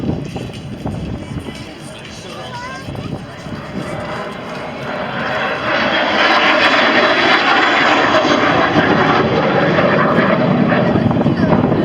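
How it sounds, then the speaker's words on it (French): An Alpha Jet flies its display at the 2019 World Aerobatic Championships air show at Châteauroux, its jet roar building to a loud, sustained rush, with a voice faintly audible beneath it early on. "Regardez comme c'est beau cet Alpha Jet."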